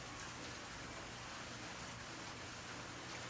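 Steady rain hissing down outdoors, a dense broadband wash with no distinct drops, constant and fairly faint throughout.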